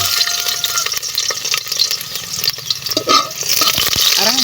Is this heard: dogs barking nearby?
no